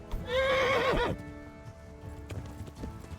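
A horse in the game Kingdom Come: Deliverance whinnies loudly for about a second, a rising and falling neigh, followed by quieter ambient clatter and faint background sounds.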